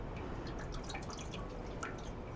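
Water trickles and sizzles steadily across a hot Coleman RoadTrip 285 grill surface, a faint continuous hiss broken by scattered drips, with no one talking.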